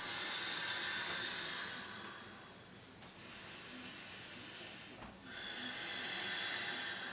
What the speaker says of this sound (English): Deep breaths in, feeling our bodies warm.